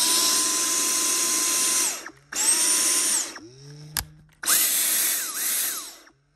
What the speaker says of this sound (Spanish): nos va a tocar desmontar todos estos tornillos del Dyson